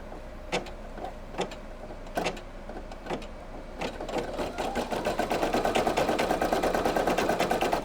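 A Brother PE800 embroidery machine stitches an appliqué heart, starting with a few sharp separated clicks and building into a steady, fast, rhythmic mechanical whir with dense needle pulses, close and fairly loud.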